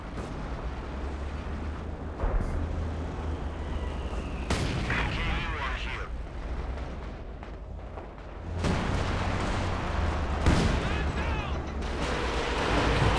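Artillery from Soviet forces in Company of Heroes 2 fires onto one area, a continuous rumble broken by sharp heavy blasts and crackling impacts, loud and dense, with a voice talking over it.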